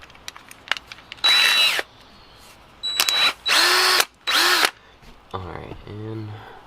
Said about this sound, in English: we are good to drill in right here too